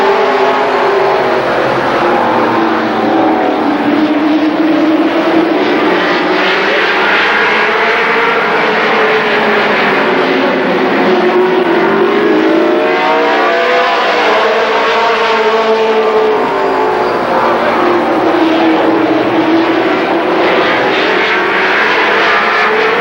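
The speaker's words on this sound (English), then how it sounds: "7 brave NASCAR Winston Racing Series late model racers going at it for 10 laps" NASCAR Winston Racing Series late model race cars roar around Columbus Motor Speedway in a ten-lap heat, a loud continuous engine drone rising and falling as the pack passes, with no voices.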